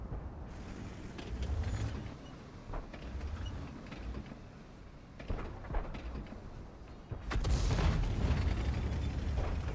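An artillery shell striking a SU-152 tank destroyer in World of Tanks, a loud heavy impact crash near the end of a stretch of creaking tank mechanics and muffled distant bangs.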